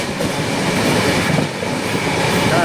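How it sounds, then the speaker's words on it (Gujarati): Steady rumble and clickety-clack of a moving passenger train bound for Haridwar, heard from aboard, loud and continuous with no talking. "હવે અમારી ટ્રેન આવી ગઈ છે."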